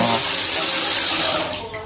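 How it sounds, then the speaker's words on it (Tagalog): Strong water gushes from a bathroom tap in a shower area, a loud, steady rushing stream close by that eases slightly toward the end. "malakas ang tubig dito."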